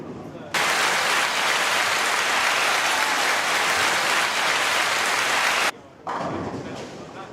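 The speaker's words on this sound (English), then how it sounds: "Back to the applause." Loud, dense applause at a bowling tournament, a sustained roar of clapping that cuts off abruptly, then resumes more faintly after a brief gap.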